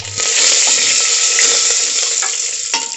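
Curry leaves and cumin seeds hiss loudly in hot oil, a bright sputtering sizzle up close with a few sharper crackles and pops near the end.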